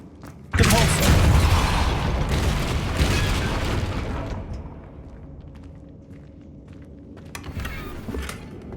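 Depulso force spell cast in Hogwarts Legacy: a sudden loud booming burst that rumbles and slowly fades over several seconds, with a few faint clicks and a brief swell near the end.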